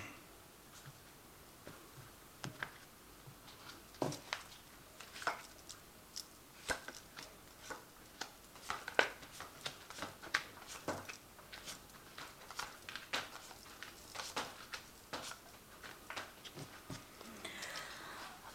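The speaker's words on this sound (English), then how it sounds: "So I'm going to just draw some cards from this deck." Soft, scattered papery snaps and flicks of tarot cards being drawn and laid down, faint and irregular against a quiet room.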